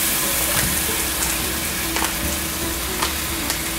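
Chopped kimchi and garlic stir-fry in leftover pork belly fat, giving a loud, continuous sizzle close up with a few faint stirring knocks and no talking.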